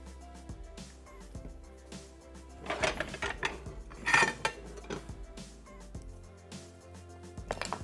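Cooked food being dished out, with close metal utensils clanking and scraping against pots, a cluster of louder clatters in the middle, then quieter scrapes, no voices.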